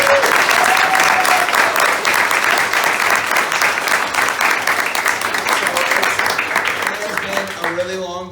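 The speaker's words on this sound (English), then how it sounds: "Let's give a round of applause for all." Audience applause for the actors of a Mortal Kombat Q&A panel at a fan meet-and-greet, a loud, dense wash of clapping sustained for several seconds before thinning out at the end.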